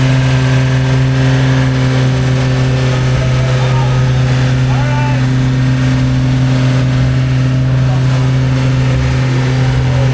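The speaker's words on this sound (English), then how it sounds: "Rev it up a little bit." An off-road vehicle in a video game revs its engine continuously, a loud, steady droning hum with strong low tones that holds throughout at close range.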